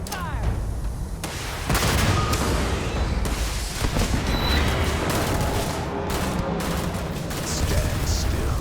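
Dense, continuous gunfire in the space game Starfield forms a loud, steady barrage of overlapping shots and booms, with a voice talking over part of it.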